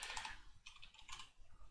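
Keys clatter on a computer keyboard in two short, close bursts of rapid typing, crisp and alone with no talk.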